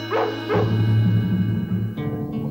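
A couple of sharp Dalmatian barks, then a yipping, whimpering vocalisation over sustained musical tones in a musical story, with a brief sharper sound near the end.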